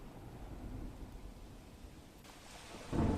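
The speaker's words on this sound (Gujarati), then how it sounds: "ધોધમાર વરસાદ વરસી રહ્યો છે" Deep rumbling thunder rolls beneath a steady hiss of heavy monsoon rain in Khambha, Amreli, swelling louder near the end.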